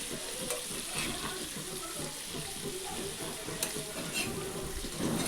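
Lolli fish fry gently in oil on a tava over a low gas flame, giving a soft continuous sizzle with light crackles and occasional stirring or turning sounds. The frying is quiet and steady, with no talking.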